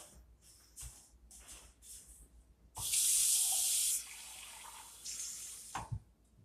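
A water tap gushes briefly and loudly, close by, for about a second. Quieter rustles and handling noises come before and after it.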